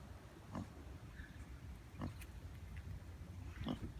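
A farm pig grunts softly three times at spaced intervals, low and muffled against a quiet outdoor background with no talk.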